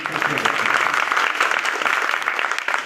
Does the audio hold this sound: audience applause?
yes